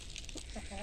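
A few soft clucks from chickens being fed, faint and brief over steady background noise outdoors.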